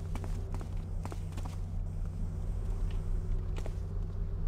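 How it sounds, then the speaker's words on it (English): Human footsteps approach in the stealth game Thief, during a fan mission: a steady run of soft, close steps over a constant low ambient hum. "Sound like human footsteps."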